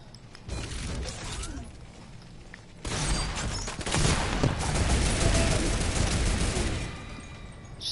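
Rapid turret gunfire in a Fortnite battle royale match: a lighter clattering stretch, then a louder, dense, continuous volley that keeps going to the end.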